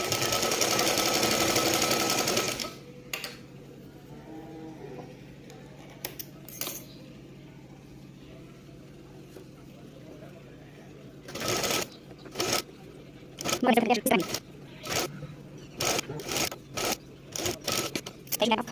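A sewing machine stitches a kurti sleeve round its seam in a short, close, steady burst, then stops, followed by quiet sporadic clicks and fabric handling noises.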